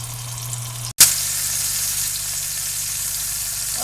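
A steady, loud hiss of pot roast beef sizzling as it browns in a hot pot in the oven follows a brief clunk, continuing evenly and close up with no voices.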